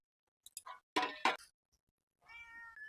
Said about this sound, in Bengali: এসে ডাকছে মিয়াও মিয়াও।